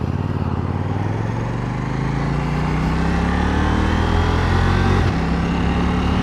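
A KTM Duke 790 motorcycle accelerates hard through the gears using its quick shifter. The engine note climbs steadily, then a quick upshift cuts in around two-thirds of the way through and the loud, close revving builds again.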